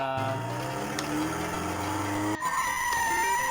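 Model T car braking and skidding in a video game, a sustained squealing skid with engine tone that cuts abruptly and gives way to a higher steady whine, fairly loud with no talking.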